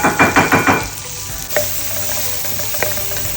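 Chopped onions frying in butter in a pan for chole bhature, a close, steady sizzle with a few rhythmic stirring scrapes at the start and an isolated clack later.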